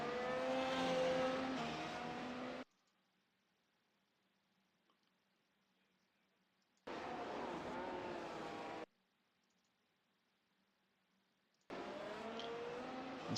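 Race car engine in a sim racing F1 game at Fuji International whines and revs in three separate stretches with silent gaps between, bright and buzzy as the car spins around.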